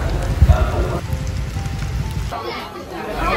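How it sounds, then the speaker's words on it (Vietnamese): Afternoon rain pours in Da Lat, a dense, continuous hiss of drops hitting surfaces nearby, with faint murmuring voices mixed into the steady wash. "hứng dọn một cơn mưa luôn"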